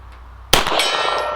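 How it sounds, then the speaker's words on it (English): A pistol round, fired from a WWII German Browning Hi Power, strikes a big steel gong: one sharp, loud clang that rings on with a bright shimmering tail after a quiet moment. "Let's just go back and see if I can get that or the big gong."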